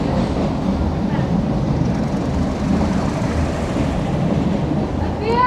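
A meter gauge train runs through Gir Forest on the Junagadh to Veraval line as it nears Sasan Gir station. A steady, loud rolling rumble continues unbroken, with faint higher squeals near the end.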